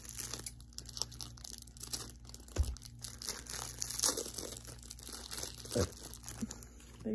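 Close, quiet crinkling and tearing of a plastic Pokemon card pack wrapper, coming in short irregular bursts with a few sharper rips.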